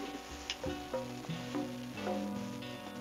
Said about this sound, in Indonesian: Yang selanjutnya kita aduk sampai rata ya Bu ya.